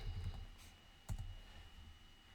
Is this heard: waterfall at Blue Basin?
no